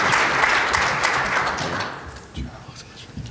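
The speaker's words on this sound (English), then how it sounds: "I think we should give our mayor as well as our city manager a round and round of applause." Audience applause after a call to honor the Virginia Beach mayor and city manager at an annual business address, a steady broadband wash of clapping that slowly thins, with voices mixed in.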